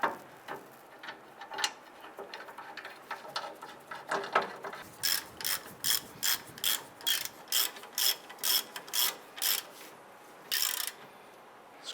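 Ratchet turning brake rotor bolts on a 2002-2008 Dodge Ram 1500 during a rear brake job, quick clicking bursts at first, then a regular series of distinct ratcheting strokes, close and fairly crisp.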